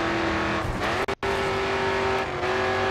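Racing car in the video game Grid 2 running flat out at full throttle, a loud steady engine drone with a brief cut in sound midway, then the roar resumes and holds.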